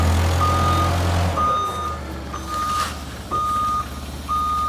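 A forklift reverses with a loud repeating reversing beeper sounding in regular pulses over a low idling engine hum, close by and with no talk.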